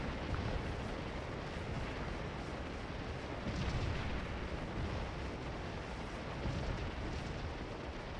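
A steady, dense roar of massed musket volleys from a brigade in a Civil War battle at Antietam's East Woods, in the game Scourge of War, rumbling on without pause at moderate loudness and with no talk.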